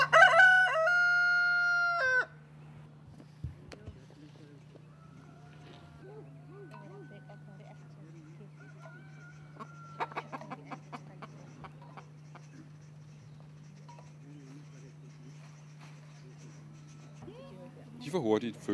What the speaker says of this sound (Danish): Kvinderne har levende høns med, der senere skal lide offerdøden.